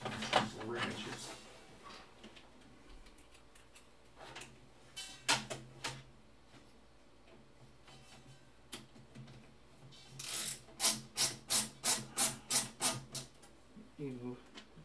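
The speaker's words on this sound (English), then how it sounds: "a screwdriver that's ratcheting" A ratcheting screwdriver working on a budget PC build clicks in a quick, close run of about eight even ticks, with scattered handling clicks and talk nearby earlier.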